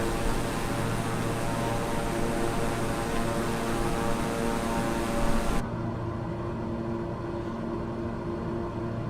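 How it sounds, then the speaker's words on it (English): A King Air 250 propeller plane cruises in Microsoft Flight Simulator, a steady, loud, dense cabin drone that drops abruptly to a softer, duller hum partway through. "This is a King Air 250, and very similar to the CGLUL that we are flying today in Microsoft Flight Simulator."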